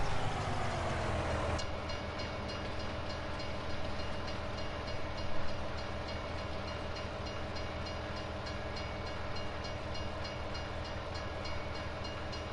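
A train passes in the farming video game Farming Simulator 19, a continuous dense rumble with steady rhythmic clatter and a brief horn-like tone near the start, holding level throughout.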